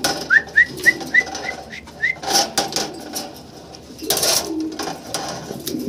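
Pigeons at a seller's stall give a run of about six short, rising whistled calls in quick succession, followed by scattered clatter and shuffling noises nearby.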